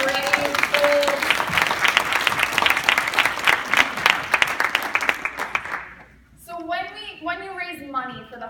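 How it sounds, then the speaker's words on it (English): A school assembly audience claps for classmates up front, a strong burst of applause lasting about six seconds before it stops and a voice begins talking. "Give one more round of applause to your friends up front for their brave souls"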